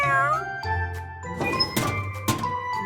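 A kitten's high, wavering meows sound over light background bumps and jingling, close and clear.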